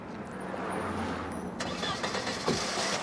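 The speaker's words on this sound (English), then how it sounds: "The car started, but wouldn't move." A Mercedes car engine cranks and fires into life on a riverside embankment near Waterloo Bridge, a brief starter whirr followed by a rough idle, faint and somewhat distant.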